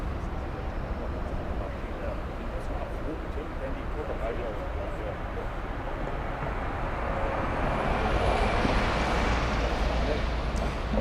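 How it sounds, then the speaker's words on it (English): Lufthansa Airbus A340-300 jet at Frankfurt airport, a steady broad roar that swells toward the end as the four-engine airliner draws nearer, heard from a distance with a voice talking over it. "we have an A340-300. Lufthansa 490 flying to Seattle"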